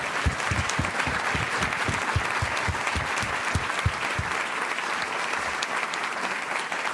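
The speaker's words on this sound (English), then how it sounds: "give them another round of applause" An audience applauds after a talk by historian Heather Cox Richardson on American democracy, a dense, steady wash of many hands clapping throughout, with a few heavier nearby claps early on.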